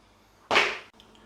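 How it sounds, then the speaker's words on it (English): An oven door is shut in a kitchen: a single sharp swoosh and thump lasting under half a second, close by, followed by quiet. "And then close the door."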